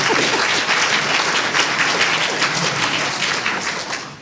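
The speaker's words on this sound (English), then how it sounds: "Let's give Ronnie a round of applause" Steady, dense applause from an audience at a community meeting for a city speaker, loud and sustained, tapering slightly at the end.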